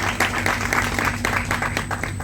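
Audience clapping at a gathering welcoming a speaker onto the stage, a steady close burst of many hands lasting a couple of seconds.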